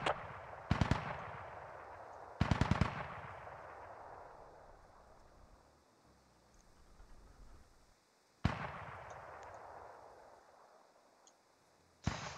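Machine gun fire in the video game Squad: short rapid bursts of gunshots, fairly distant, with echoing tails, separated by stretches of quiet ambience.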